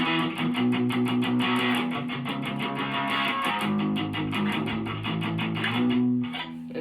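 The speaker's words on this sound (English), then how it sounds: "but if I palm mute it, it sounds like this." Electric guitar playing the riff palm muted, chugging chords in a steady punk rhythm, continuous and close with no talk.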